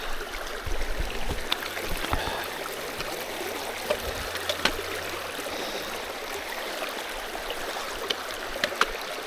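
A creek in Henry W. Coe State Park in winter: water rushes and trickles steadily as someone wades through the stream, with occasional splashes from footsteps, close and continuous with no talk.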